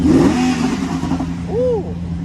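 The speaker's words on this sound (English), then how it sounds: "Hey, could you give it a rev, please?" A Lamborghini Aventador's engine gives a short, loud rev that rises and falls quickly close by, with a second blip near the end, as voices talk over it.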